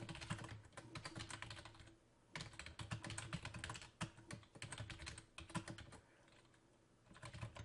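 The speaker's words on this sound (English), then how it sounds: "So I'm going to type that in." A book title typed on a computer keyboard, rapid irregular key clicks in short bursts with brief pauses, close but quiet and with no voices.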